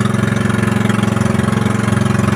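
A fishing boat's engine on Manila Bay runs at a steady idle, a loud, rhythmic low chugging that throbs evenly throughout with no voices.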